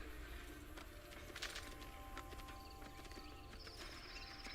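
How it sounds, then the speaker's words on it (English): Hooves clip-clopping at a steady rhythm as a horse is ridden in Assassin's Creed, the hoofbeats soft under a constant bed of ambient game noise, with no speech. "We're just gonna ride around on our horse for a little bit."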